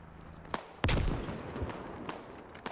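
A single loud grenade blast in the military shooter game SquadOps, set during a compound-clearing operation, bursts suddenly and trails off in a rumbling decay, with a few sharp, scattered gunshots before and after and no voices.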